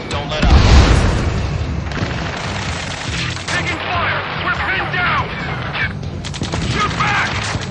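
Gunfire and explosions in the Ace Combat 7 battle: a heavy boom early, then dense rattling fire and bursts, with shouted radio voices throughout.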